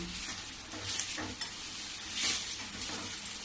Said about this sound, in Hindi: अब थोड़ा देर मैं इसको भी भून लूंगी